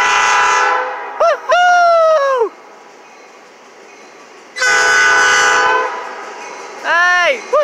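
A loud train horn blasts repeatedly in long sustained notes over the rumble of a passing Norfolk Southern diesel locomotive hauling a boxcar in Griffin, close and powerful.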